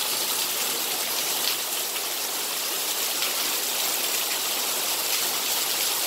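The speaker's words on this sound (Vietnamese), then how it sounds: "Nhưng mà bây giờ nó mưa quá sức." Heavy rain pouring down on a countryside home with a tin roof, making a dense, steady hiss of drops that stays loud and unbroken throughout, with no voices.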